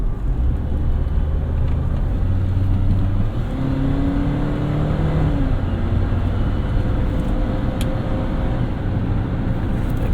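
A 2012 Suzuki Grand Vitara Limited, a four-cylinder 4WD SUV, drives through corners, its steady engine drone and road rumble heard from inside the cabin, continuous and fairly loud with a few shifting engine tones.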